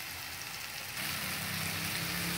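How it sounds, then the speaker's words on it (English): Baby shrimp hit a hot pan for a sautéed shrimp and egg dish. A steady close sizzle suddenly grows louder and brighter about a second in, then holds as a dense, even hiss with no talking. "So now it's time to put the little shrimp."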